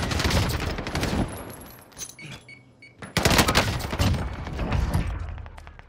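Bursts of rapid gunfire in Call of Duty Vanguard Warzone on Rebirth Island, with dense volleys of shots, a short lull, then heavier sustained firing close by.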